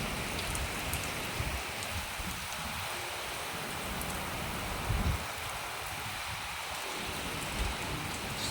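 Heavy rain pours down steadily in a dense, continuous hiss, with a few louder splashes close by and no voices.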